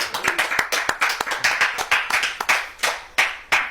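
An audience applauds a speaker, a biologist being introduced at a religious talk, with steady clapping from a modest crowd, close and fairly loud, rising and falling in uneven waves.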